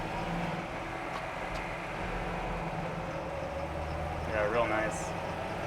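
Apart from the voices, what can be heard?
1981 Toyota Land Cruiser FJ45 pickup engine driving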